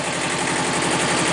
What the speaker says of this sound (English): You can hear the engine rev back up